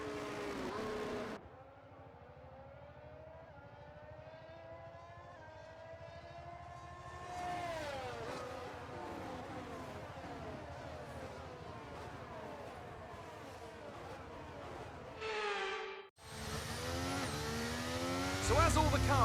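Race cars idle and rev on an F1 23 formation lap, a steady layered engine drone rising in pitch around the middle and swelling again near the end, with a brief gap of near-silence just before the close.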